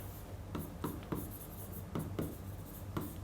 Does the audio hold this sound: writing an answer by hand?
yes